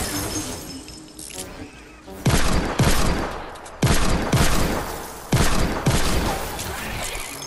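A minigun fires in the video game Fortnite Save the World, with loud, dense bursts of rapid gunfire and crashing impacts repeating in several long volleys.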